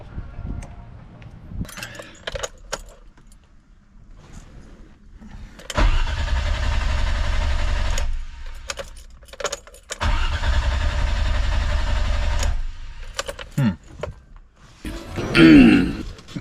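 A BMW E30 engine cranks and fires, with two sustained bursts of loud revving separated by a pause, close up, then brief clicks and a short voice at the end.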